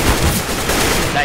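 Gunfire in a tactical shooter video game, bursts of shots crackling densely across a short stretch amid busy match noise, with players' voices talking over it.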